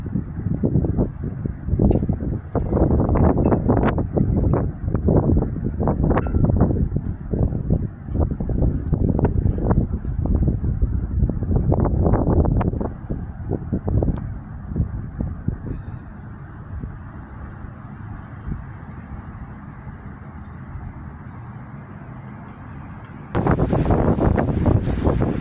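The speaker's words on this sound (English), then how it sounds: "Hear that wind, guys?" Strong wind gusts roar and buffet the microphone during a Christmas blizzard in Casper, a heavy low rumble that surges and eases before calming to a steadier hiss, then picking up again.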